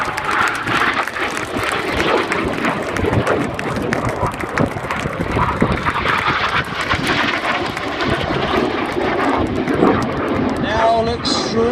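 Red Arrows jets in a flying display at the Biggin Hill air show, a loud, continuous roaring rush of jet engine noise that swells and fades as they pass, with crowd and commentary mixed underneath.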